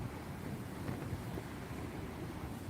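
Steady wind roars and rushes against the microphone during a storm on a bass fishing trip, a continuous low buffeting without clear breaks or voices.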